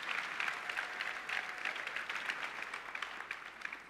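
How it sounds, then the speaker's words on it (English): An audience at the Atlassian Summit U.S. 2017 keynote claps steadily and evenly throughout, a dense, moderately distant wash of applause with no talk. "Round of applause for these guys."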